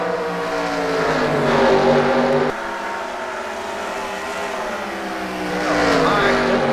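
Stock cars race around Bristol's short oval, engines roaring loudly as they pass and fade and swell again, with a commentator talking over the noise.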